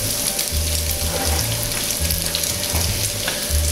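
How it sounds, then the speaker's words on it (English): Bacon sautéing in a pan for beef bourguignon, a dense, even crackling sizzle close up, with a low hum pulsing underneath and no talking. "we're gonna saute this for 2-3 minutes or until it gets really crispy"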